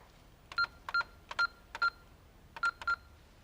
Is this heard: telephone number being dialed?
yes